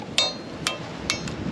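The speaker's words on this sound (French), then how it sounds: "moi ça m'impressionne le bruit de la machette sur la coco" A machete strikes a hard coconut at an outdoor beach spot in El Cuyo, Mexico, giving several sharp, bright metallic chops at uneven intervals, close and clear over faint background ambience.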